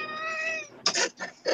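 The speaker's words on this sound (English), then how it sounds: "She was meowing earlier." An indoor house cat gives a drawn-out, tonal meow, then a couple of shorter, rougher yowls in quick succession, close and fairly loud with no talking.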